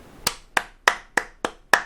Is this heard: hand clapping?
yes